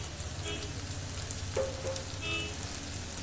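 Deep-fried chicken sizzles softly in a pan right after red chilli sauce goes in, a brief steady crackle at low volume.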